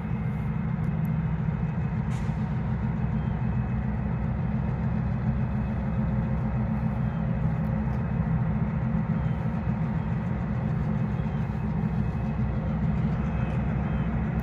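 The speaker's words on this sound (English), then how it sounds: "That's a long train." A long Union Railroad freight train passes near Turtle Creek, Pennsylvania, producing a steady, unbroken low rumble and droning engine hum that holds at an even level throughout.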